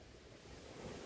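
Ocean waves washing onto a Grenada shore, a soft, low rushing surge that swells slightly toward the end, faint and distant with light wind noise and no voices.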